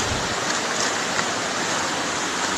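Steady broadband rush of river water flowing in a provincial river, continuous and close, with no voices.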